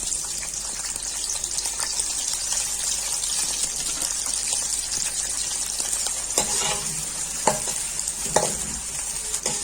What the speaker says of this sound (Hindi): ऑयल गरम हो गया, अब इसमें प्याज ऐड करूंगी।